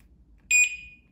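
A single short, high-pitched electronic chirp from a wireless scooter alarm kit on a Kaabo electric scooter sounds loud and close against a quiet background, then fades out.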